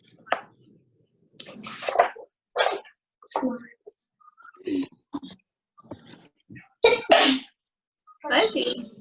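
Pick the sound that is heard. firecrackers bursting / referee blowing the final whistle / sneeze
sneeze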